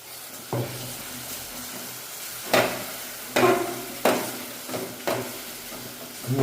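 Four eggs cracked into a hot pan, a low continuous sizzle broken by several sharp scraping knocks of a utensil against the pan at irregular intervals, close and without speech.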